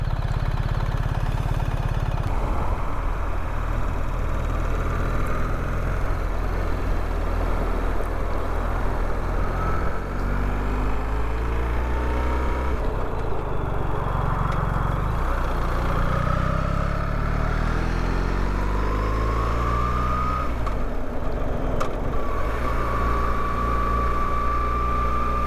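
A 2024 BMW R1300GS motorcycle on a demo ride gives a steady engine drone with wind rush, rising and falling in pitch through gear changes.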